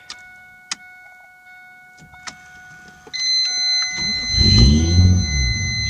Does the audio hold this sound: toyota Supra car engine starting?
yes